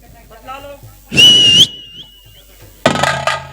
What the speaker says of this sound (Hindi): क्यों सीटी मार रहा है तू?